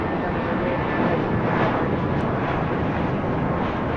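An American Airlines jet rolls for takeoff on runway 25 right at LAX, its engines a loud, steady broadband roar filling the whole stretch without a break.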